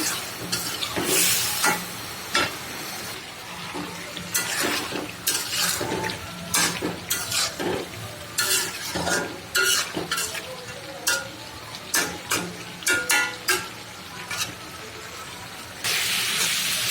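A taro and prawn curry is sautéed in oil in a pan, with a close, continuous sizzle and a rapid series of loud spatula scrapes and stirs, then a surge of frying at the end.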